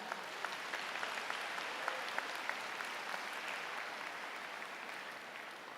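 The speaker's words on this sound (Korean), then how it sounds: "다시 한번 감사의 박수 부탁드립니다." Audience at a Seoul National University graduation ceremony giving a round of applause in a large hall, sustained and even clapping from many people with a few sharper claps standing out.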